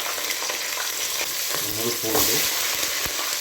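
Mustard seeds and green chilies frying in oil for a dried fish curry, a dense crackling sizzle with stirring scrapes and a few sputtering pops, close and alone.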